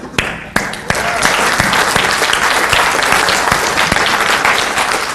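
An audience at a dating-techniques seminar bursts into applause after a few sharp opening claps, then sustains steady, dense clapping close by, with some voices mixed in.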